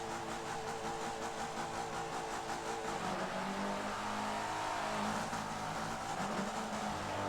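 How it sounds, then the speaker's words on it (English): Race car engines in the Forza video game buzz and rev together on a pitched oval, a dense continuous drone with shifting pitch and no talking. "Hear the engines buzzing, and here they go off"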